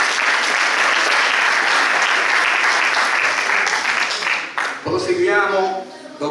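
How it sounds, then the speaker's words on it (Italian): Crowd applause at a community event in Termoli marking forty years of Difesa Grande, sustained clapping for several seconds before a voice takes over near the end. "Grazie Franco, un applauso"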